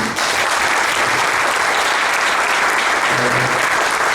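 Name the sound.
audience applause at a book event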